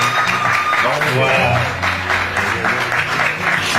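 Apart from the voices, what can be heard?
audience applause at church holiday camp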